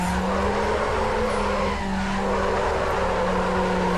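A turbocharged Mazda Miata drifts in Need for Speed Underground, its engine droning steadily under a long, continuous tire skid that stays loud and close throughout, with no voices.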